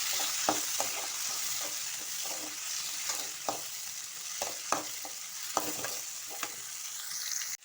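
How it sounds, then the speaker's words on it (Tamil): Onions and tomatoes sauté in a pan for a Tamil-style fish curry, giving a steady close sizzle with repeated scraping stirs of a utensil, each one sharp and distinct, and no voices. "வெங்காயம் நல்லா வதங்கிட்டு இருக்கு."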